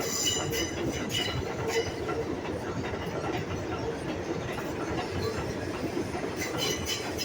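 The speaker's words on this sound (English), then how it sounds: "There's a train!" An elevated subway train on an old South Bronx line, built around 1920, roars past nearby with a loud, steady rumble and clatter throughout.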